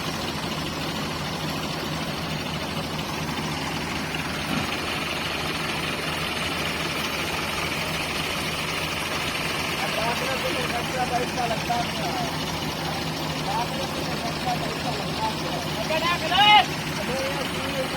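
Ford tractors labour under heavy load as they try to haul a stuck trolley, a steady low engine drone running throughout with people talking over it.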